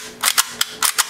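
A UAC Glock lightweight BB pistol is dry-fired in a cold room, making about five sharp, close mechanical clicks in an uneven rhythm with brief quiet gaps between them.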